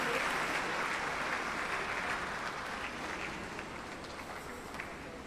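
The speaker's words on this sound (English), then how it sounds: "Round of applause as well." Steady applause from a congregation at a priestly ordination anniversary, a continuous wash of clapping that holds even and then eases slightly, heard at a moderate distance.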